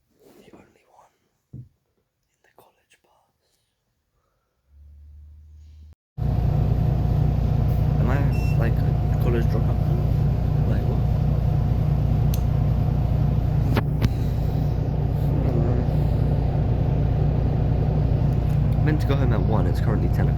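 A college bus engine rumbles steadily and loudly from inside the moving vehicle, a constant low drone that begins abruptly after a quiet stretch with faint sounds and continues to the end.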